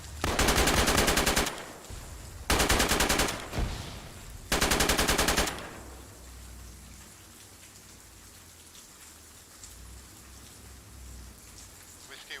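Gunfire from a military position: three long, loud bursts of rapid automatic fire about a second apart, followed by a low, distant rumble and quiet ambience.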